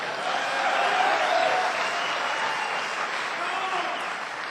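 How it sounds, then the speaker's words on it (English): Steady applause from a town hall audience, a dense wash of clapping hands that swells slightly and then holds at a constant level before easing toward the end, with faint voices mixed underneath. "with that rousing applause"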